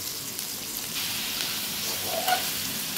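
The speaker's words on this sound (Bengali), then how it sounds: "শাক ভাজি করার জন্য তেল দিয়ে দিতেছি, পেস্ট কুচি, রসুনের কুচি দিয়ে দিচ্ছি, মরিচের কুচি" Chopped garlic, green chili and paste fry in oil in a pan before red spinach is added, giving a quiet, steady close sizzle with a faint scrape near the end.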